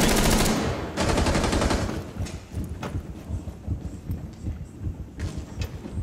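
Gunfire in the video game Rainbow Six Siege comes as a loud rapid automatic burst, then a second burst, followed by scattered softer pops and footstep-like thuds.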